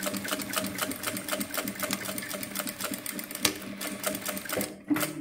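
A sewing machine runs continuously, stitching piping onto synthetic material with a fast, steady rhythmic chatter, close and loud, briefly dropping off near the end.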